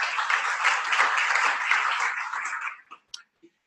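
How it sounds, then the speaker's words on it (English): Audience applause at a community club meeting: dense, steady clapping from a crowd that holds for nearly three seconds, then thins out into a few last scattered claps. "big hand of applause for yourself"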